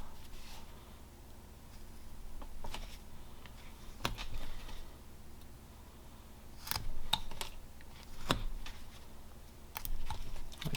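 A whittling knife cutting a V notch into a wood carving of a flat-plane Viking figure, producing sparse sharp clicks and short scraping strokes spaced irregularly, close but quiet over faint room noise.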